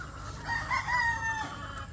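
A rooster crows on a poultry farm, one drawn-out crow rising and falling for about a second over faint clucking and farmyard background, fairly quiet and alone without talk.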